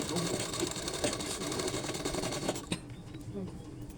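A sewing machine stitches cross seams while joining fabric strips for neckline piping on a blouse, a steady close whirring that runs without break for about four seconds, easing slightly near the end.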